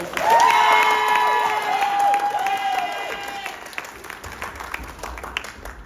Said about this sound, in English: A round of applause to the handsome Fabio.